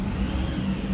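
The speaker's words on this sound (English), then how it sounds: "We have Shane revving this bus." A bus engine revs loudly inside a bus depot, giving a steady, close rumble with no break for the whole short burst.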